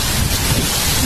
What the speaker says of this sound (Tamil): இந்த மாதிரி மழை துபாயில நான் பார்த்ததே இல்லை